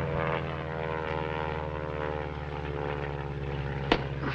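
A propeller airplane drones at an airport in a 1940 film, its engine a steady throbbing hum throughout with a brief sharp knock near the end.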